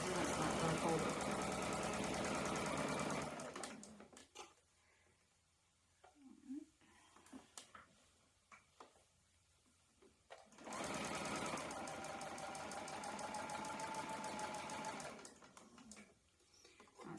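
Sewing machine quilting Riley Blake door banners for February and March, running loud and steady for about four seconds, pausing with soft handling noises, then running again in a long steady stretch.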